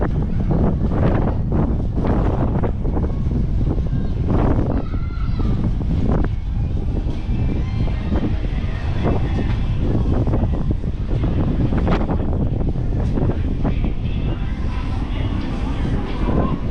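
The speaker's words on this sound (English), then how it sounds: "Pretty dang windy out here." Strong wind buffets the microphone on the open deck of a Carnival Panorama cruise ship, a loud constant roar under intermittent talking.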